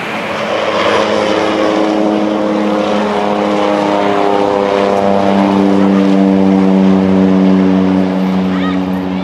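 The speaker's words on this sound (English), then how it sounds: "There's a seaplane taking off in the inner harbor of Victoria, British Columbia." Propeller seaplane taking off in the inner harbor of Victoria, British Columbia, a loud, steady engine drone that rises in pitch as it accelerates, with a voice talking faintly over it.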